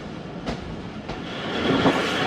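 A Jaffar Express passenger train runs on the rails between Peshawar Cantt and Lahore, approaching a station, with a steady rumbling roll, two distinct wheel clacks near the start and a rising, brighter rush toward the end.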